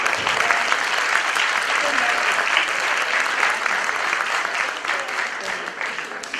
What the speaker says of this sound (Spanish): Un aplauso fuerte para